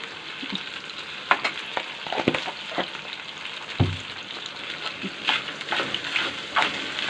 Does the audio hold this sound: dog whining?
no